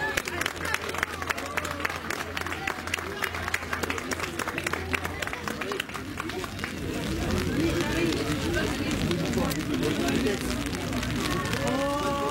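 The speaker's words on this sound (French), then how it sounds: "Vous pouvez les applaudir." Audience applause for roller skating champions at a French road championship event in Château-Gontier, a broad steady clapping wash that swells louder midway and continues over crowd murmur.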